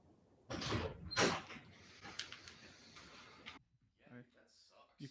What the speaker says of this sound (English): You can like definitely hear the door open perfectly over the mic.